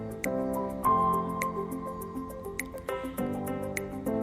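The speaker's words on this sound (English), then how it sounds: "Okay, time to stir it together." Cake batter of milk, vinegar and vegetable oil stirred in a bowl, with soft wet squishing and clinking strokes over a low steady hum.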